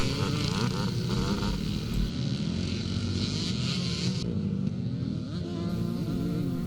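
Classic racing motorcycles roar past on the Penrith circuit in a Scottish classic race, a dense continuous buzz of several engines, loud and fairly close, with a voice faintly underneath.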